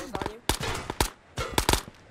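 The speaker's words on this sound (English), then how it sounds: "are those gunshots?" Gunfire in the video game Ghosts of Tabor: several sharp, loud shots in two quick bursts, close by, with bits of voice chat mixed in.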